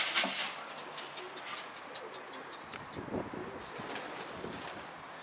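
A stray pigeon flies in and lands, with a soft flutter of wings, faint cooing and light bird calls, all at low volume outdoors.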